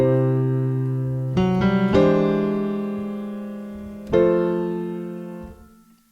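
Piano plays a few sustained gospel ditones, two-note chords struck about three times in sequence and left ringing to decay, with no voices.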